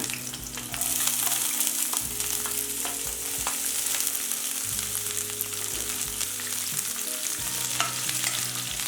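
Green chillies and capsicum frying in oil over a low flame, a continuous bright sizzle with occasional stirring clatter, steady and close throughout.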